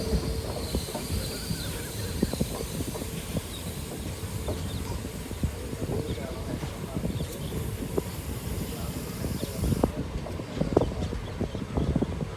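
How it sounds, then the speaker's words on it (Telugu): A train runs along the Guntur–Secunderabad line past Gudipudi station, a steady rumble of rolling wheels heard from onboard, with rooster-like calls faint in the background. "ట్రైన్ గుడిపూడి స్టేషన్ని క్రాస్ చేస్తుంది."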